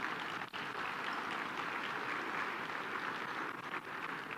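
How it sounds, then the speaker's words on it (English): Luncheon guests at a chamber of commerce State of the County event applaud, a soft, steady, fairly distant patter of many hands clapping that holds evenly throughout. "Give yourself a round of applause because you deserve it."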